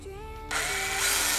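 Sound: power drill drilling pilot holes

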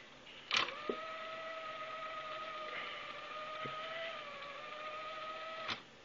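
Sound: cassette tape deck rewinding

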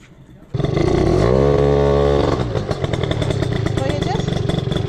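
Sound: scooter engine started and revving

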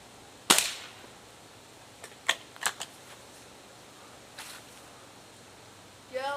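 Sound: shots from a Beeman Model 1047 air rifle

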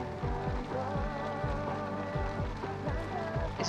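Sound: hail falling in The Sims 3 video game

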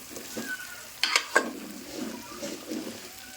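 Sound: brinjal (eggplant) frying in oil

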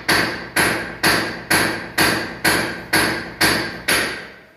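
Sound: chisel hammered to break a bed's board

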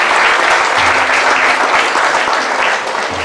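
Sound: audience applause

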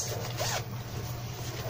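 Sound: zipper on a pouch

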